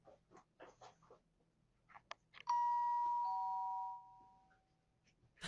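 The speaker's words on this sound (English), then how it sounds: "ringing the doorbell at 3 in the morning" A single electronic doorbell chime rings out clearly at night, a sustained bright tone with a second note, after some quiet rustling and small knocks.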